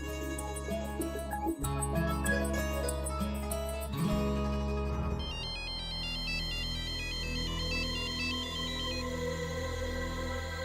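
A phone's ringtone melody plays loudly and steadily without a break, its repeating electronic tune sitting over a busy musical backing, with no voices.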